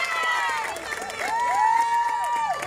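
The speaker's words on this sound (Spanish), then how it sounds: "Le den un fuerte aplauso." At the opening ceremony of a women's basketball tournament, a crowd fills the hall with continuous applause and cheering, with shouts and whistles rising through the steady noise.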